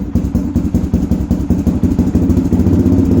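A Honda 400EX ATV engine idles on full choke after a cold start, a loud, close, lumpy single-cylinder chug with a steady rapid pulse and slight unevenness.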